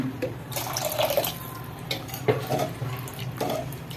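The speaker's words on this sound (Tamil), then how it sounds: "இன்னும் கொஞ்சம் கூட தண்ணி ஊற்றிக்கிறாங்க" Water is poured into a pot of roadside-style idli sambar made without lentils while cooking, giving splashy trickling and pouring in uneven bursts, fairly close and alone.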